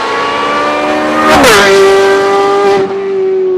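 A very loud Audi R8 with a raw, high-pitched exhaust revs hard, its harmonic whine climbing then dropping and settling into a steady high idle-like drone, close and alone without speech.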